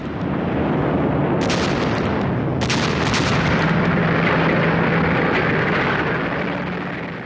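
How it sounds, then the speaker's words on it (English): Massive World War II artillery bombardment in archival footage: a continuous loud roar of blasts and rumbling booms, with sharp bursts standing out over the dense barrage. "Then there was a devastating artillery bombardment."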